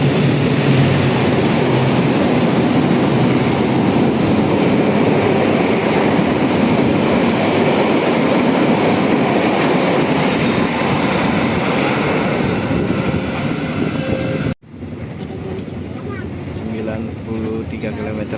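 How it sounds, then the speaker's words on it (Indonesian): An Indonesian Sembrani express train bound for Surabaya Pasar Turi runs straight through a station on track 2 at speed, a loud, steady roar that cuts off abruptly near the end, leaving quieter ambient noise. "Melintas langsung di jalur 2 kereta api Sembrani tujuan Surabaya Pasar Turi."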